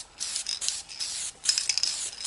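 A spray can sprays paint onto Farmall Super M tractor parts during reassembly, close hissy bursts in short repeated passes with brief pauses between.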